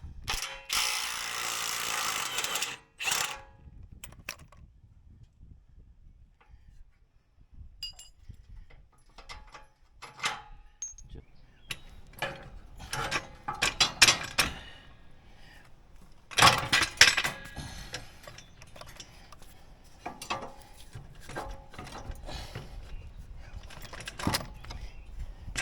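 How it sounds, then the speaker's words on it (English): A ratchet clicks in short bursts and pauses while removing a bolt from a trailer leaf spring bracket, with metal clinks and handling noises nearby and no speech. "And then we'll remove this bolt."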